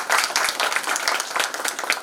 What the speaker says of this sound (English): I would like that you should give him a big round of applause first.